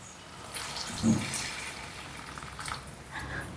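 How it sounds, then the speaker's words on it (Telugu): Water poured into a pan of broad bean and tomato curry: a soft, brief splash and hiss of liquid landing in the pan, faint and close, with a gentle sizzle continuing afterward. "ఇప్పుడు ఇందులోకి టూ హండ్రెడ్ ఎంఎల్ వాటర్ వేసుకుందాం"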